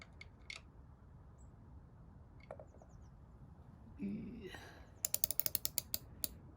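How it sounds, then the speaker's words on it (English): A socket ratchet clicks in a quick run of about nine sharp ticks while tightening bolts on a 1954 Volkswagen Oval Beetle, close and crisp after some quieter workshop handling noises. "can't get a spanner in there, so I'm going to have to use the socket, which I don't like doing"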